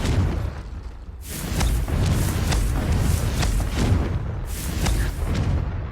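Confringo spell explosions in the video game Hogwarts Legacy, several deep booming blasts with rumbling, crackling tails that overlap into a sustained roar, loud and close, no speech.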